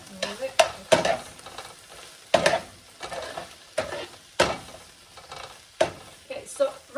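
Potatoes fry and sizzle in a pan while a utensil stirs them in repeated scraping strokes, close and fairly loud, with a steady sizzle underneath.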